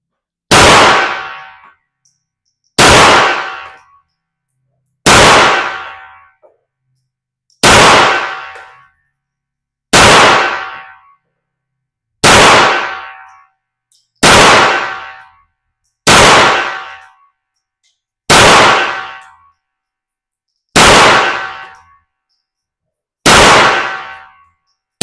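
Glock 44 pistol fired at targets, about eleven sharp, loud shots at a slow, regular pace of roughly two seconds apart, each ringing out briefly, with no talking.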